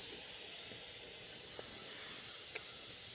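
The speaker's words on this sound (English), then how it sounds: "Deflation of the air mattress." Steady airy hiss of an air mattress deflating at a riverside campsite, faint and continuous for a few seconds with a couple of small clicks and no talking.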